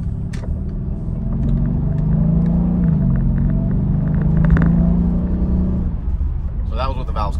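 With exhaust valves closed and the cutouts shut, an R231 Mercedes SL550 V8 puts out a deep, droning rumble while accelerating, then the pitch dips as revs fall and the rumble continues steadily. Near the end someone talks briefly over it.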